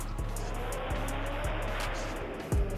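A Honda S2000 with a Precision 6262 turbo on E85 drifts in traffic, its engine droning loudly with repeated rapid pulses and tire noise, ending in a short sharp burst.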